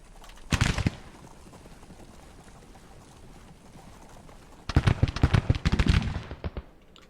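Civil War artillery and musket volleys in the Grand Tactician strategy game, with two loud crackling bursts of rapid gunfire, one brief near the start and a longer rolling volley later, separated by a low ambient rumble.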